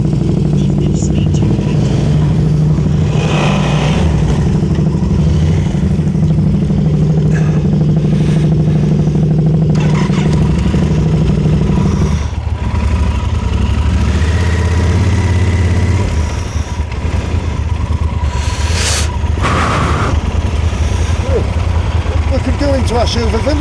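Blue Yamaha Tenere motorcycle engine running steadily nearby on a Peak District ride, a low throbbing idle with some clatter and wind noise, people chatting over it.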